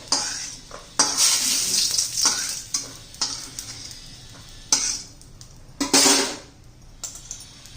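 Coconut dry-roasting in a pan, with close scraping and stirring strokes and light sizzling that come in uneven bursts with short pauses between them.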